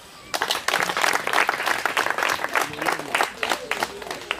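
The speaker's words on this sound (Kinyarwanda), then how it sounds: "Ndagira ngo mumfashe tuanze duha amashyi Asumani" Crowd at a community celebration in Kicukiro, Gahanga applauds for Asumani, many distinct hand claps forming a lively, uneven patter after a quiet start, with some voices mixed in.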